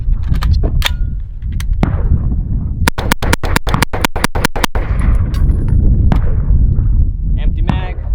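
A CZ Scorpion 3 Plus firing in a fast burst of about a dozen sharp, loud shots until the magazine runs empty, amid wind and background rumble outdoors.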